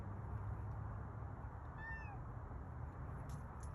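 A cat gives a single short meow near the middle, fairly faint against a steady low background rumble, with no other calls.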